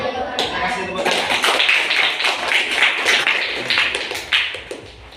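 A class applauding, a few people clapping in uneven bursts in a room, close and fairly loud, with some talking mixed in.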